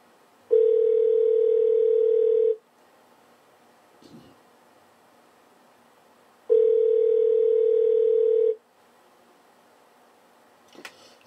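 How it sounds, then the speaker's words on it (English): A phone line rings out twice, each long flat tone lasting about two seconds with a gap of near silence between them. Nobody picks up, and faint rustles sit between the rings. "Nobody's answering the phone."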